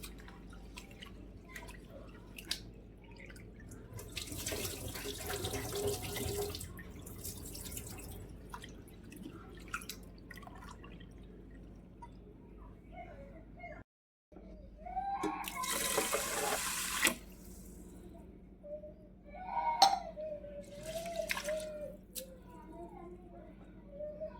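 Spinach is rinsed under a running kitchen tap while cooking, with splashing and dripping water coming in uneven bursts and a brief gap, and a voice talking at times.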